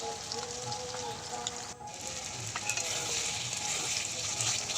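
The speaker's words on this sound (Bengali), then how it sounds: "মশলাটা দেখুন ভালো করে কষিয়ে নিচ্ছি" Spice masala with turmeric sizzles and crackles steadily in a pan while being stirred, with occasional scraping of the spoon against the pan, for a chicken kosha dish.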